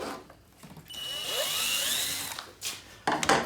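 A power drill whirs as it drives screws into a car hood, a rising and falling motor whine held for a couple of seconds, followed by short tool noises close by.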